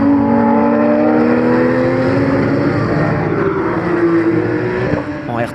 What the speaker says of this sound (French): doit résister aux attaques de Yann Panlou, un véritable duel au sommet entre les 2 Porsche qui ne lâchent rien